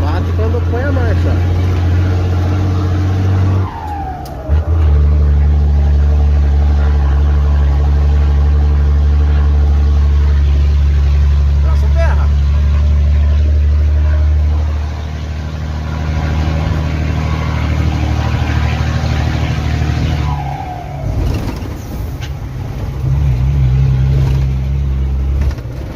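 Heavy diesel truck engine running loud and steady while the driver shifts gears, with the engine note dropping and surging at each change, hauling stone from a mine.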